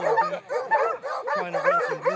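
Hunting hounds bark and bay in repeated bursts, loud and close, with a low steady drone underneath.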